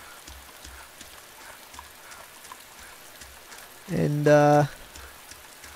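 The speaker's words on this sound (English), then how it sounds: "Man, this rain is crazy." Steady rain patters continuously in the DayZ video game, a soft even hiss of drops on surfaces, briefly interrupted by a short spoken word.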